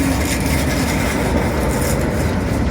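A train rolls past close by on a seawall line, a loud continuous rumbling roar of wheels and carriages with no talk over it.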